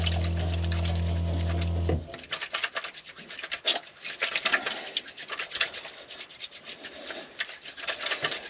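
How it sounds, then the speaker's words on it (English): Hands being washed with water at a wild campsite in Sweden, a soft irregular rubbing and splashing close by after a steady hum cuts off, continuing unevenly for several seconds. "I wash my hands first"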